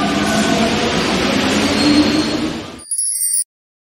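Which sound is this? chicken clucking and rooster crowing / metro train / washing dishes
metro train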